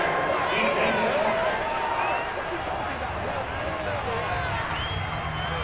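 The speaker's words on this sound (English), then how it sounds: "Well, the crowd doesn't like that." Stadium crowd at an NFL game between the Bills and the Patriots, reacting angrily to a penalty flag on third down: a loud, sustained roar of booing and shouting from a big crowd that fills the whole stretch.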